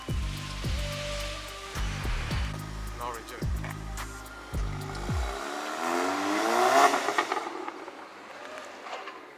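A tuned VW MK7 Golf GTI runs under load on a dyno, its engine note rising in repeated pulls, then swelling into a loud, broad roar before dropping away.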